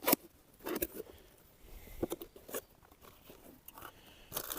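Packaging of a Forte CP 21-25 cordless pruner being opened: crinkly rustling and sharp crunching bursts, close and fairly quiet, with no talking.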